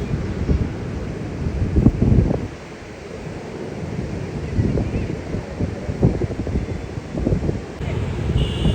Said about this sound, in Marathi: कसला समुद्र खवळला आहे.